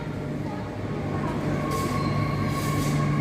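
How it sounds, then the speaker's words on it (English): A Perth B series train on the Claremont service pulls into a station, its steady rolling rumble and faint wheel squeal lasting throughout, with a voice talking over it. "the B series train heading in"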